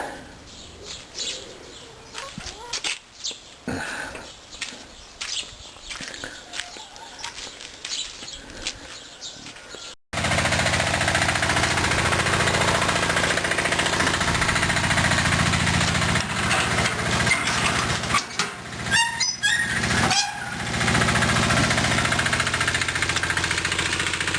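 A vehicle engine drives to fetch sand on a rural estate, with quiet outdoor ambience and faint birds at first, then the engine's loud, steady, close roar with rattling vibration for the rest of the clip.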